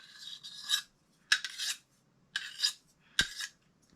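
A knife blade drawn across a sharpener in four rasping strokes at a steady pace, each a close, gritty metallic scrape separated by short silences, with no talk over it.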